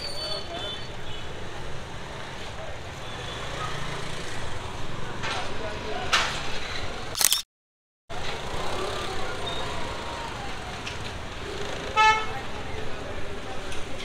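Car horns toot repeatedly in a traffic jam at a crowded vegetable market in Gujarat, short honks rising over street noise and engines, with voices talking and a brief dropout midway.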